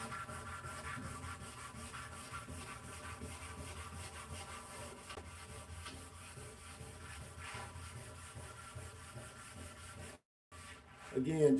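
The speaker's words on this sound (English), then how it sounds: "Because I'm even wet sanding this side of the track." Continuous rhythmic scrubbing of 800-grit sandpaper with soapy water over a wet painted surface, steady and close, with a brief pause near the end.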